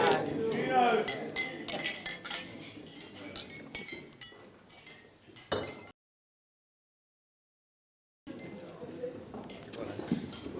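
Glasses chink together several times during a groom's wedding toast to his parents, sharp clinks over a busy room of voices, with a short silent gap before the chatter and clinking resume.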